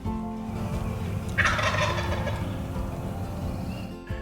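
A wild turkey gobbles once, a rapid rattling call rising over a constant outdoor background of steady rumble and hum.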